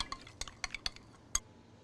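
A spoon clinks against a bowl while mayonnaise, ketchup, Dijon mustard and Cholula hot sauce are stirred together. The taps are quiet and close, coming in an irregular burst of about eight strikes.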